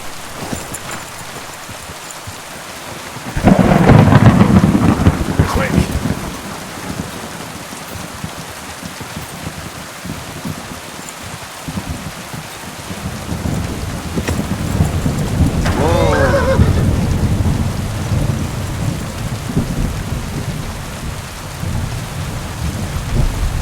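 Heavy rain and rolling thunder in the video game Kingdom Come: Deliverance II, a loud steady downpour with a sudden swell of rumbling thunder early and another long roll midway, while someone talks over it.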